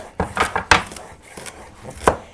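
A knife chops vegetables on a cutting board for hummus in a series of close, sharp, uneven knocks, about half a dozen strikes in quick succession with no talk over them.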